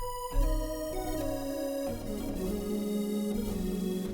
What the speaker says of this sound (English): the fourth thing I'm gonna add is a very subtle lead sound that I found in Alchemy. It's called Glass Space, and it sounds like this.